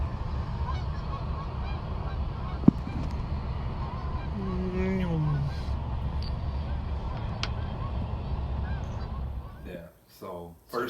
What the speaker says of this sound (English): Holy crap! More geese.